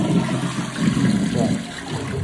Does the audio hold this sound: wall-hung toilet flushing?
yes